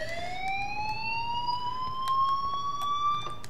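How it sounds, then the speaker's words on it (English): A fire alarm siren wails in the game Life Is Strange, a steady rising electronic tone carrying on continuously over faint background noise, loud and close. "hey, do you hear that fire alarm?"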